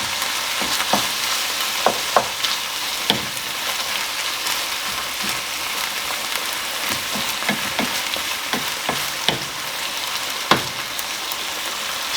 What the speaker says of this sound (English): You can still see pink in the mince, which means it hasn't been cooked properly yet, so we'll keep on moving it.